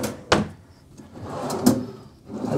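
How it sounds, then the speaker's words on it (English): Large hotel room drawers in a Disney World resort tower being pulled open, a sharp knock followed by a soft sliding rumble, then another thud, close by in a quiet room. "And then there's two more drawers to pull out,"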